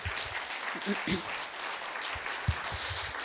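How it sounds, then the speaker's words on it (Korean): A church congregation claps at a Friday evening service, a fairly quiet, diffuse patter of applause with a few murmured voices and soft thumps mixed in. "우리 모두 영광의 박수를 힘차게 올려드렸으면 좋겠습니다"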